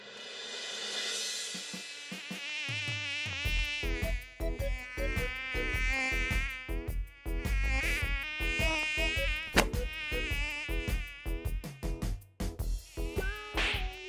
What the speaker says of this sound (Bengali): মশাটা এসে কানের কাছে সাইরেন বাজাতে শুরু করেছে